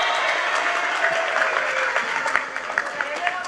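A crowd bursts into applause, a continuous wash of clapping with some louder individual claps near the end, while a voice speaks briefly over it.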